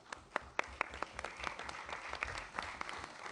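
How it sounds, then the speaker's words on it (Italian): Conference delegates applaud at an interparliamentary conference on fighting organized crime in Rome, a fairly quiet, continuous patter of many hands with a few sharper individual claps standing out. "E chiedo l'applauso dei Paesi membri ai nostri partner"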